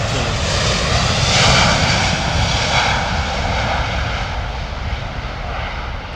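A passenger airplane takes off down a runway at Heathrow Airport, its engines a loud, steady roar that swells slightly and then slowly fades as the aircraft pulls away, heard alone without talk.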